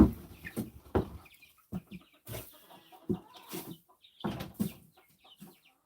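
Chickens cluck in a house in a rapid, uneven series of short clucks and squawks, close by and moderately loud, with no talking over them.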